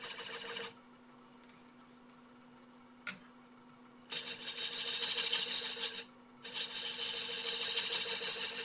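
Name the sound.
spindle gouge turning wood on a lathe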